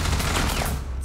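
Rainbow Six Siege video game gunfire, a short, loud, dense burst of rapid automatic shots heard close up with no talking.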